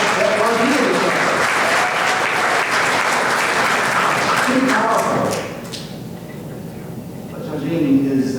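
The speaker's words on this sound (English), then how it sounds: "give yourselves a round of applause for being awesome people" Audience at a leadership conference keynote breaks into sustained, dense applause that fills the room, then tapers off and gives way to quieter sound near the end.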